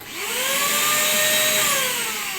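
A vacuum extractor hooked up to a planer runs with a steady, loud rushing roar and a high tonal whine that rises slightly as it spins up, holding evenly for about two seconds with no one talking.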